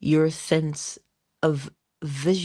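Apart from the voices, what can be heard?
No everyday noises stand out.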